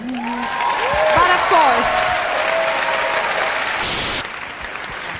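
Audience applause for Sweden at the 1999 Eurovision Song Contest, a steady roar of clapping from a large hall running under a presenter's speech throughout.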